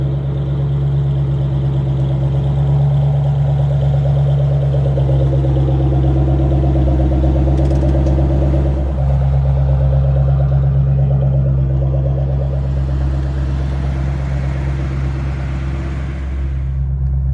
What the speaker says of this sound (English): the Mach 1 by far is my loudest car